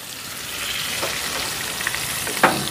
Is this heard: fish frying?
yes